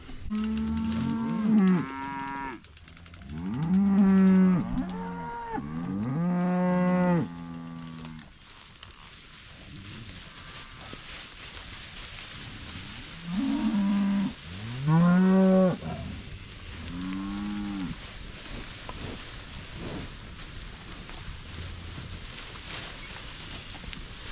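Cattle, including heifers and a bull, moo in deep, drawn-out calls that come in several clustered bursts with quiet gaps between, over faint outdoor background noise.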